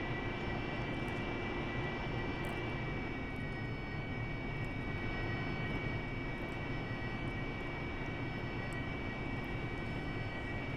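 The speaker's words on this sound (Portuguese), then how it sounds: "Decolagem vertical, VTO." AV-8B Harrier jet performing a vertical takeoff in the DCS flight simulator: a steady, continuous engine roar with a high whine on top, constant and even in loudness throughout, with no talking.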